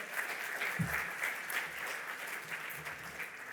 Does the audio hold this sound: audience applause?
yes